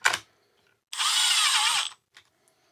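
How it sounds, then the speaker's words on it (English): A cordless power driver sets screws into the cover of a Stihl FC91 trimmer: a short whirr, then a steady one-second buzz, followed by a faint click, close and alone. "Probably ought to stick these 2 screws in up front here to hold that cover."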